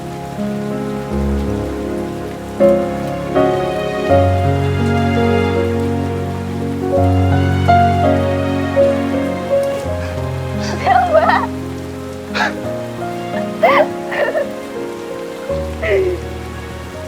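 Heavy rain pours steadily on a surface throughout, loud and close, with music playing over it and brief voices near the end.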